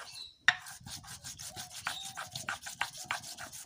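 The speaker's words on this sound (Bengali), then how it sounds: "শিলে নিয়ে নেব। একটু জল দিয়ে একদম মিহি করে বেটে নিতে হবে।" Spice paste being ground with a little water on a stone grinding slab, a rhythmic series of close, rasping back-and-forth rubbing strokes, steady and regular after one sharp opening knock.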